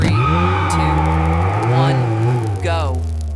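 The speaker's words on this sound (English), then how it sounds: "The engine roared" A modified sports car engine roars loudly at a race start in the Nevada desert, a steady low drone with rising pitch sweeps as it revs and accelerates, then a brief squeal near the end.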